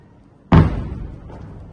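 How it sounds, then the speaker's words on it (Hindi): A single heavy boom from an air defense interception hits suddenly and rumbles away, loud and deep, with a fainter echo trailing after it in an otherwise quiet night. "जोरदार धमाके हो रहे हैं इस वक्त"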